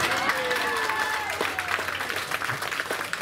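Audience applause and crowd noise at a Cook Islands cultural show at the Polynesian Cultural Center, dense continuous clapping with some voices mixed in, fairly loud throughout.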